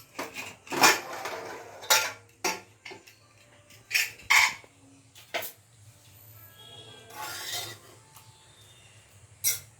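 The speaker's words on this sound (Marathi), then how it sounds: "कुकर पण आता थंड झालाय। मी आता कुकर उघडते।" A cooled pressure cooker holding cooked masoor lentils is opened with a series of sharp metallic clanks and clatters, separated by short pauses, near and fairly quiet against a low background hum.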